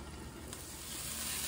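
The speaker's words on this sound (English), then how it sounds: "I wanted to stir fry these." Vegetables stir-frying in a pan for a jambalaya, giving a steady close sizzle that grows slightly louder toward the end, with one brief scrape near the start and no talking.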